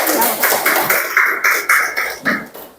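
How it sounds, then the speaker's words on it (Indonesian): Schoolchildren clapping their hands in an elementary classroom, a loud, close run of quick, rhythmic claps in short bursts with a voice faintly among them. "Tepuk tangan buat teman-teman semua"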